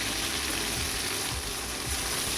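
Pointed gourd (potol) frying in a pan, a loud, dense, steady sizzle of hot oil that continues unbroken and fills the whole moment.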